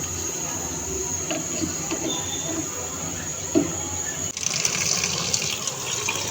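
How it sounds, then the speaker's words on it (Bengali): Cold tap water runs steadily over boiled pasta in a sink, a continuous splashing rush with a brief louder surge partway through and no talking. "বয়েল করা পাস্তা ঠান্ডা পানি দিয়ে ঠান্ডা করে নিচ্ছি।"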